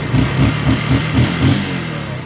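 A freshly refreshed Rouser 135 motorcycle engine idles close by, putting out a steady pulsing throb with a regular rhythmic beat and no talk over it.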